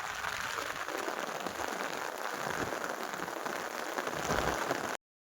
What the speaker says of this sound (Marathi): छान पाऊस येतोय.